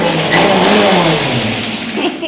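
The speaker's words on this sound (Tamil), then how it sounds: "இந்த மிக்ஸி அரைக்கும்போது பைக் ஓட்டுற மாதிரியே இருக்கும்" A mixer grinder runs loudly and close, its motor whirring with a steady, rough, engine-like drone throughout.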